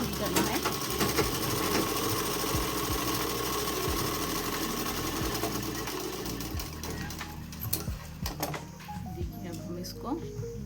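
A sewing machine stitches a dress in rapid rhythmic bursts, its needle chattering steadily up close, while someone talks throughout.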